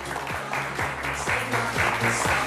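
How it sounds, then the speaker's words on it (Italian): A beauty pageant audience at the Miss Telefriuli election for Miss Italia claps for the sixth-placed contestant. The applause is steady and fairly loud, with a voice faintly audible beneath the clapping. "un applauso per la 6ª classificata"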